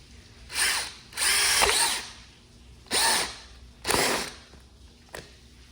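A power drill bores a hole through a plastic car door panel on a Nissan 370Z, in four loud, close bursts of a second or so each with short gaps between, then a brief final blip.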